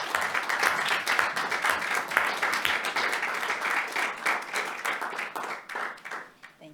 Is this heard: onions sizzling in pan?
no